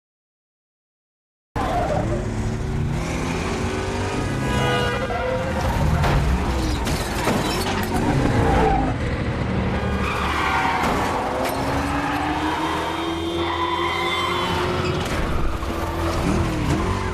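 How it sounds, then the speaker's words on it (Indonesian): Film car chase with engines roaring and tires skidding and squealing in long sweeping screeches, loud and continuous after a brief silent start, with no voices. "Dan terjadilah kejar-kejaran antara Richard dengan mobil yang ditumpangi oleh Charlie tersebut"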